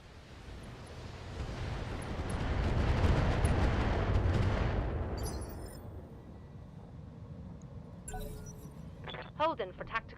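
A long roaring rumble of video game gunfire from the Hard Target assassination mission swells to a peak and then fades, followed by a few sharp clicks and faint voice-like sounds at the close.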